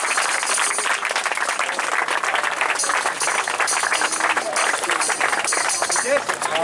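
An audience applauding child performers at a street play, a dense sustained burst of clapping from a crowd, loud and continuous, with voices mixed in.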